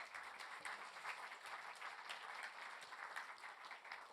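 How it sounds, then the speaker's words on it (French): Applause from a French business audience for a colleague, a steady patter of clapping heard faint and distant throughout. "On peut l'applaudir"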